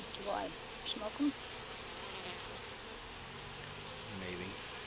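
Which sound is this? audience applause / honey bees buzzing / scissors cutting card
honey bees buzzing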